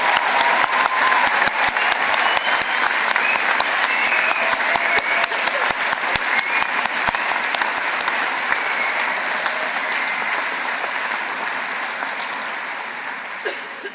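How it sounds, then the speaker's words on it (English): Sustained, loud round of applause from the audience for new graduates at a university graduation ceremony, dense crowd clapping that holds steady for about fourteen seconds before thinning slightly at the very end. "let's give our wonderful new graduates another round of applause"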